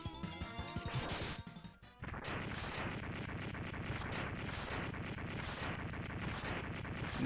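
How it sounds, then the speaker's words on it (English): A boss blowing up in the Mega Man X2 video game, heard as a dense run of loud, repeated blasts and crashes that keep going for several seconds after a brief dip, with no talking. "He explodes"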